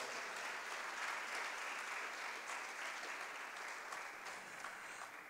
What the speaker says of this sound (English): give a clap offering to the Lord